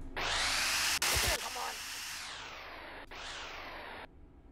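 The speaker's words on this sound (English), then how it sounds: "I wonder if the drill works now" A power drill in the VR game Hot Dogs, Horseshoes & Hand Grenades whirs loudly and steadily, briefly cuts out, then spins up again before stopping near the end.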